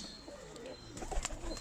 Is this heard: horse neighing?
no